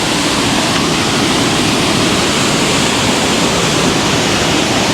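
A swollen river roars in a steady, dense rush of water, loud and close, filling the whole stretch with no break and no voices.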